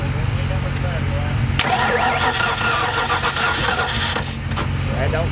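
Stick shift station wagon engine cranking and catching, then running roughly with a loud, steady rumble close by while people talk over it.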